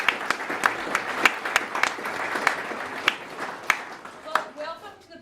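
Audience applause at a barn dedication, a steady patter of many hands clapping with a few sharp louder claps standing out, moderately close, fading toward the end as a voice begins.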